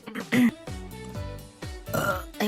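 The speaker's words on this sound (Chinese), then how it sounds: "哎呦我的妈呀，这他妈大嗝！" A vtuber lets out a series of loud, close burps, deep drawn-out croaks coming one after another with little talk between them.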